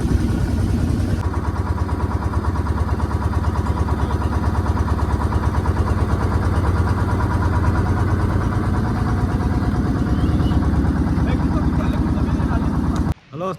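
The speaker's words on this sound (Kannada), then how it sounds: "ಇರುವಂಥ ಅದು ಮೋಟರ್ ಸೌಂಡ್ ಇದೆ ಬ್ಯಾಕ್ಗ್ರೌಂಡಲ್ಲಿ" A boat motor runs steadily throughout a boat ride near a mangrove boardwalk, a loud, even mid-pitched engine drone with a fast regular pulse that cuts off abruptly near the end.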